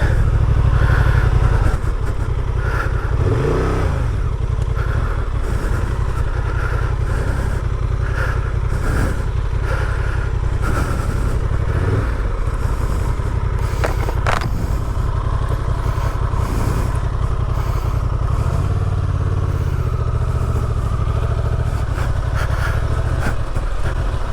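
Honda Transalp 750 (2023) motorcycle ridden slowly on slippery gravel, a steady low engine drone running throughout with faint crunching and wind, no talking.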